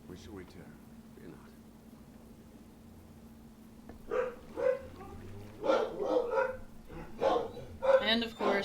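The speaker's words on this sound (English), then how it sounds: "And of course, there go my dogs." Several dogs bark repeatedly in the room, starting about halfway through with sharp, fairly loud barks over quiet video game audio and a low steady hum.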